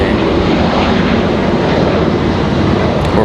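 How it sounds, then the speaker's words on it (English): A JetBlue airliner in special livery at Raleigh-Durham International, bound for JFK, giving a loud continuous engine roar close by with no talk. "Our painted up JetBlue, they're headed back to JFK."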